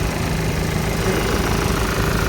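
A 2014 Renault Pulse RxL car engine runs at a steady idle in good condition, a loud, close, even rumble throughout with no speech.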